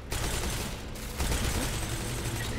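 Rapid hand cannon gunfire in the shooter Destiny 2 during a strike, loud dense shots and game effects running continuously with no pauses.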